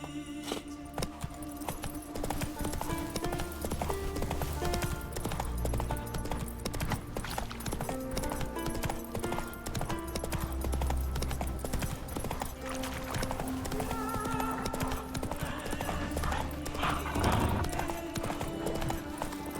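Hooves of Roach, a horse in The Witcher 3, clip-clop steadily and continuously over a dense bed of ambient game sound and music, with a brief whinny-like swell near the end.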